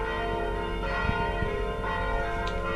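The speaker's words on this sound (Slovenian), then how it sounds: "Onemu so se pa spet zvoni pokvarili" Church bells ring over a seaside campsite in Sveti Filip i Jakov, Croatia, a steady ringing that holds loud and continuous with repeated strikes throughout.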